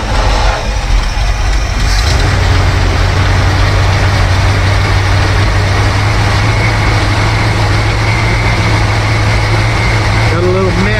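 Classic milk truck engine turning over and running at a steady low rumble, loud and close throughout, with a brief sharper burst near the start.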